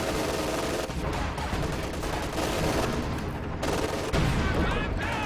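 Two MG34 machine guns in Company of Heroes 2 trade fire in continuous, overlapping rapid bursts, loud and close, with battle booms and faint speech in the mix.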